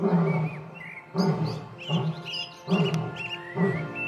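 A lion roars in a series of deep, rhythmic grunting calls, about five bursts spaced roughly a second apart, moderately near, with faint bird chirps in the background.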